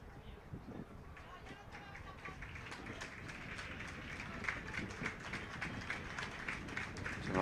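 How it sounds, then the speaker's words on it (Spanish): Spectators in a stand at a Real Valladolid Promesas against Arandina CF football match applaud an injured player, a quick patter of clapping that builds steadily, mid-distance beneath a commentator's voice. "Se marcha ante los aplausos de la grada de los anexos"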